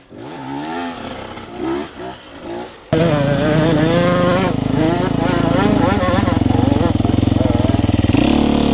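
A motorcycle tackles a slope in a gravel pit: quiet voices talk briefly, then the engine bursts in loud and close, revving hard and steadily with pitch wavering as it climbs.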